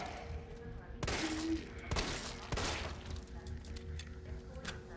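Gunfire in the video game Resident Evil 3: three or four sharp, loud shots spaced about a second apart over a low ambient drone, with a voice faintly in the background.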